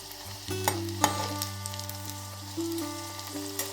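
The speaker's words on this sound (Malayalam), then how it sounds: "അപ്പുറത്തും ഇപ്പുറത്തും ഇങ്ങനെ മറിച്ചിട്ട് നമുക്ക് രണ്ട് ഭാഗവും നന്നായി ഒന്ന് ഫ്രൈ ചെയ്തെടുക്കാം" Egg-coated bread slices sizzle and fry in hot oil, a steady close crackling hiss with a low hum beneath and a few sharper clicks as the pieces are turned.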